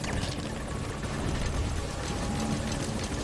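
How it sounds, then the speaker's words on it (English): Helicopter in the video game Metal Gear Solid V: Ground Zeroes, a steady rotor whir and engine drone holding at even loudness throughout, with no speech over it. "Ah, the chopper."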